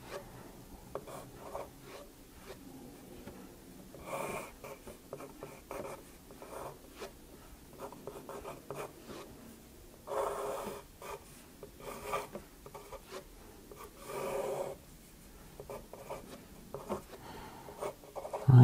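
Pen or pencil on paper, writing and sketching a transistor circuit diagram by hand, with soft rubbing scratches in short bursts and pauses, fairly quiet and close, no talking.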